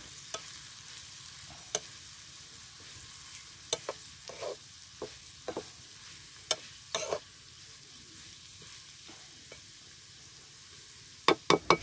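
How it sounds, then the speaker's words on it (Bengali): Ginger paste and chopped onion frying in a pan as they are stirred, a soft low sizzle punctuated by sparse sharp scrapes and knocks that cluster near the end, close and quiet with no voices. "এবার দিয়ে দিলাম আদা পেস্ট, পেঁয়াজ কুচি দিয়ে নেড়ে চেড়ে নিলাম।"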